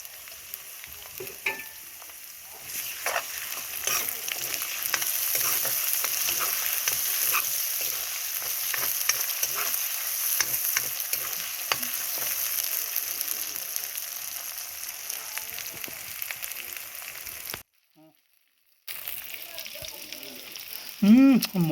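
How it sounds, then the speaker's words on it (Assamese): Garlic and ginger paste sizzles and fries in hot oil with onions and chillies in a pan, steady crackling with occasional stirring scrapes, briefly cutting out before resuming. "পেষ্ট কৰি থোৱা ৰচুন আদা অকণমান দি দিম"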